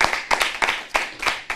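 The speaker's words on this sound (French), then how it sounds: "On peut vraiment l'applaudir, ainsi que Romain pour leur disponibilité" A church audience claps in short, separate bursts about every third of a second, a handful of sharp hand claps rather than a full wash of applause, fairly near and without talk.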